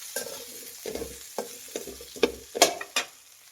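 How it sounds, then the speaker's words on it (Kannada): Spices and turmeric powder frying in a pan for drumstick sambar, stirred with a series of scraping strokes and brief sizzling bursts, fairly close and distinct with no talking. "ಒಂದು 5-10 ನಿಮಿಷನಾದರೂ ಫ್ರೈ ಮಾಡಬೇಕು."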